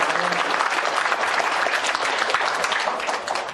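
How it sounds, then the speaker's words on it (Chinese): An audience applauds steadily and loudly for the hosts at a gathering, dense continuous clapping filling the whole moment. "大家再度掌声来感谢"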